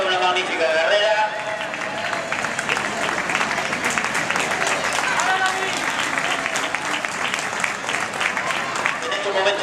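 Crowd applause and cheering greet a cadet entering the track at the end of a cross-country race in Avilés, steady and dense throughout, with an announcer's voice talking over it.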